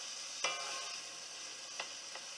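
Rice frying quietly in oil and butter flavored with thyme, a soft steady sizzle with a few brief stirring scrapes near the start and later.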